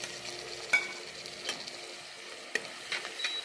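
Chopped onions frying in oil with mustard seeds and curry leaves for poha, giving a soft continuous sizzle with occasional light spoon taps and stirring scrapes, fairly quiet and close, no voices.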